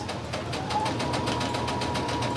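A sewing machine stitches a crazy crumb quilt block with fringe, giving a steady, fast mechanical patter of the needle at close range that continues evenly throughout without talking.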